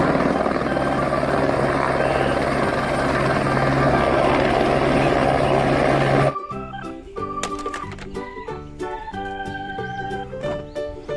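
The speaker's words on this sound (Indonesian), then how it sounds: "Helikopter" A steady, loud helicopter drone with whirring blades runs continuously, then cuts off abruptly into quieter, sparse clicking sounds.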